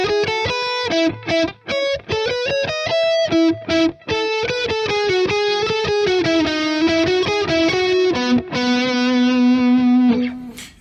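Electric guitar playing a concert-repertoire melody through a distortion effect, a loud, sustained, harmonically rich line of connected notes that ends on a long held tone, heard alone.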